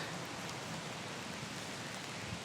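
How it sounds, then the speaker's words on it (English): Steady rain patters on a tent at a campsite along the Great Glen Way in Scotland, a continuous soft hiss of drops with no gaps, close and moderately quiet. "down comes the rain again"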